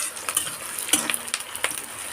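Dried red chillies and onions frying in a pan, with soft crackling sizzle and a few sharp spatula scrapes and clinks against the pan in an irregular rhythm, close and fairly quiet.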